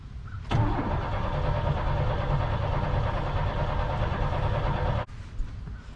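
An OBS Chevrolet Blazer engine cranking as it tries to start, a loud, steady churning starter whir running about four and a half seconds without catching, then stopping abruptly.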